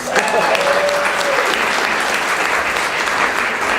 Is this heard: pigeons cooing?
no